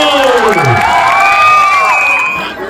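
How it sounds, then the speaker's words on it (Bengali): A loud crowd at a knock-out football tournament final cheers and shouts with high whoops and yells, sustained for a few seconds, close and energetic, with scattered clapping mixed in. "একটা জোরদার হাততালি তাদের জন্য"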